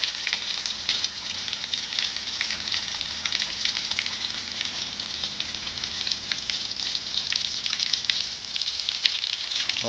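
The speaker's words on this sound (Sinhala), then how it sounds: "වහිනව නෙවෙයි ඇත්තටම මේ ගලේ තියෙන ඉඩ වතුර පහළට ඇදහැලෙන ආකාරය." Water from a rock near a cave comes down in a dense, continuous spatter that sounds like heavy rain, loud and close, with no voices.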